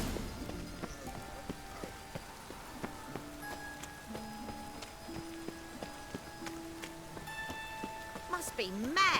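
Rain falls steadily in The Witcher 3 video game, a constant patter layered with horse hoofbeats, game music tones and a voice speaking over it.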